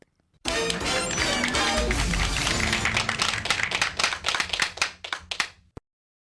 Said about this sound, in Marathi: सगळ्यांसाठी आपण जोरदार टाळ्या वाजवूयात.